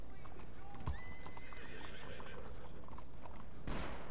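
Horse hooves clip-clopping and a neigh from a horse in the video game Red Dead Redemption 2, with a whinny rising midway and steady hoofbeats over a continuous game background, plus a sharp burst near the end.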